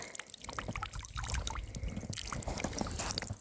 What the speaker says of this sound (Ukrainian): Ну там же чути біжить в ямку вода.